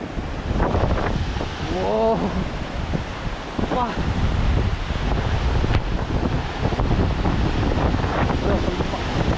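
Strong wind buffets an open viewpoint near Hebbe Falls in Kemmangundi, Chikkamagaluru, a loud continuous rushing roar close on the microphone, with brief voices breaking through.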